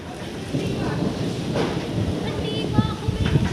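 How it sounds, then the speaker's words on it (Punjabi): Rain falls steadily in strong wind outdoors in Amritsar, a dense continuous roar with wind buffeting the microphone and a few brief louder gusts near the end. "ਉੱਤੇ ਮੀਂਹ ਪੈ ਰਿਹਾ ਆ ਦੇਖੋ"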